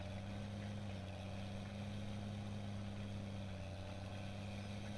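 Steady engine drone from a New Holland tractor in Farm Simulator 17, a constant low hum with strong low harmonics holding level and loud throughout, with no talking.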